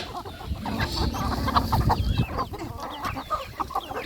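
Chickens cluck and chatter steadily at close range in a mixed farmyard flock at feeding time, several birds calling over one another with no talk heard.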